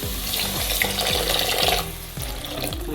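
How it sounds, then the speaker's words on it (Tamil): Water is poured into sizzling masala of spices and onions for a Tamil flying-fish curry, giving a close wet hiss and bubbling with faint stirring, steady for a few seconds before softening. "கொஞ்சமாக தண்ணி விட்டுக்கலாம்."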